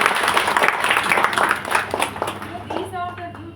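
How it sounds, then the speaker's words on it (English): An audience applauding at a government drone testing lab, a burst of mixed clapping and crowd noise at moderate distance that thins out toward the end, with voices speaking over it. "I think you should clap for yourself"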